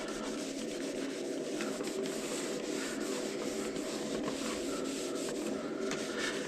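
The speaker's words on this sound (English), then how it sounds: "So there we go, just rubbing it on there." FastStik ski wax block rubbed onto a ski base, a steady continuous scraping friction held close and fairly even throughout, alone with no voices.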